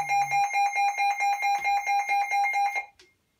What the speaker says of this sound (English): That 90 decibel alarm tone will wake you right up